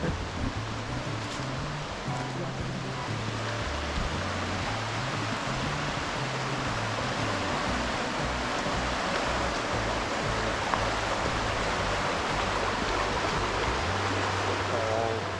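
A waterfall on a Great Smoky Mountains hiking trail rushes in a steady, close, full-bodied roar for the whole stretch, with low tonal sounds humming faintly beneath.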